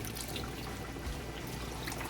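Vegetable broth pours into Jamaican-style curry chicken in a pot, giving a continuous close liquid rush and trickle with no talking.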